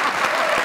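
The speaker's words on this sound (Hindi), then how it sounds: "बहुत सारी तालियां" Studio audience applause on a comedy talk show, a dense, loud burst of clapping filling the whole moment.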